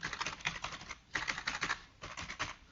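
Rapid computer keyboard typing while a registration-domain page is built in WordPress Elementor, coming in three dense bursts of keystrokes with short pauses between them, close and clear with no talking.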